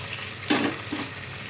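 Curry leaves crackling in hot oil in a pan while gongura chicken is cooked, with a short sharp burst of sizzle followed by a smaller second crackle over a low steady hiss.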